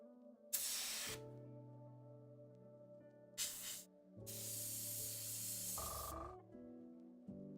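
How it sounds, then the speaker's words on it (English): An airbrush sprays paint in hissing bursts, three bright blasts with the longest in the middle, while a steady compressor hum and tones run underneath, close and fairly quiet overall. "Paint stopped flying again. Just clear the nozzle once more. Finger over the end."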